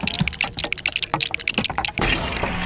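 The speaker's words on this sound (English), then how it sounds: "We can fold this table up." An RV dinette table in a 2023 Winnebago Hike 100 H1316TB camper is folded up, with a rapid run of clattering knocks and clicks close by, ending in a brief rustling shuffle.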